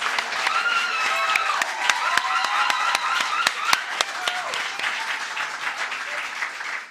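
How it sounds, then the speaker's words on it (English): Audience at a BCom graduation ceremony applauding, a steady wash of many hands clapping with sharper individual claps popping out, moderately loud and fading slightly at the end. "I want to now applaud each and every one of you."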